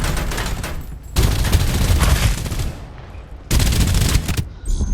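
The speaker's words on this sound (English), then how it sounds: "Exchanging fire." Gunfire trades back and forth in the battle-royale game Farlight 84, with bursts of rapid automatic fire broken by brief lulls, loud and close.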